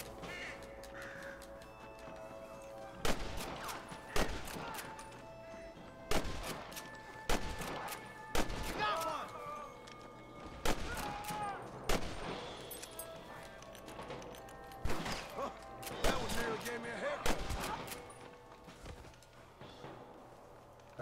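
A gunfight in the Western video game Red Dead Redemption, with scattered sharp gunshots popping at irregular intervals over a low background of game ambience and music, moderately distant and fairly quiet.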